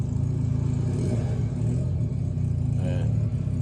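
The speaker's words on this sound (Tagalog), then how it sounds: "So ito yung exhaust sounds ng TRK guys" A TRK 500 adventure motorcycle idles nearby with a deep, throbbing exhaust rumble likened to an inline four, steady and loud, with a brief lift in revs near the end.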